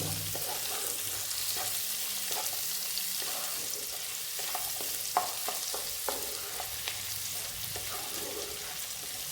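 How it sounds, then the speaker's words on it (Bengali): Ginger, green chili and garlic frying in a pan for sweet corn soup, a steady sizzle with repeated stirring scrapes and clicks throughout, close and moderately loud, no talking. "আদা, কাঁচা লঙ্কা, একটু রসুনটা ফ্রাই করে নেব।"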